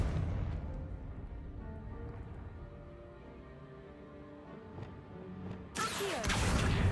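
The Confringo blasting spell going off in Hogwarts Legacy: a sudden loud crashing explosion bursts in near the end, cutting through a low, quiet, humming ambience.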